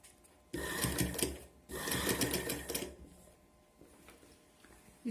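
Sewing machine stitching piping along a dress neckline in two rapid close bursts of whirring, clattering stitches, with quiet pauses between and after.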